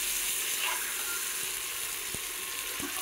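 Tilapia fish frying in a pan, a dense continuous sizzle with a couple of faint knocks, nearby and fairly quiet, no voices.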